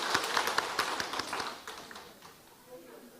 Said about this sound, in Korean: 우리 한번 크게 박수하겠습니다